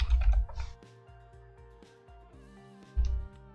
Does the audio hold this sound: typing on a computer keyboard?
yes